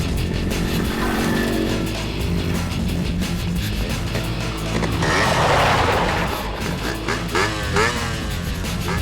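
Loud engine noise throughout, with a rising whine midway as a motorcycle passes close, over steady road rumble.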